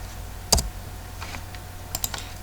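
A few sharp, separate keystrokes on a computer keyboard while someone works through a physics calculation, spaced out and quiet with a faint room hum between them.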